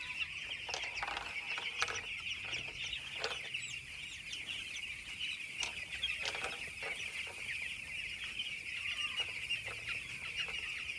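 Village farm chickens cluck steadily and keep up a scattered chorus of short calls nearby, with a constant high-pitched hum running underneath throughout.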